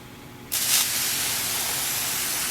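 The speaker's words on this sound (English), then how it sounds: "I'm going to give a gentle spray to the enclosure" A gentle water mist hisses steadily from a spray bottle into an isopod enclosure. It starts abruptly with a brief louder burst, then continues as an even, close spray.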